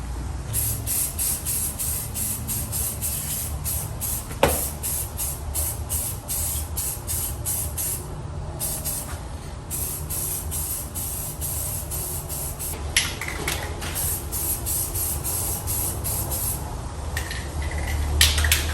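Aerosol spray paint hisses continuously and loudly over the leaf spring area of a 1979 Chevrolet Camaro Z28, in steady bursts with brief pauses, close by and without any talk.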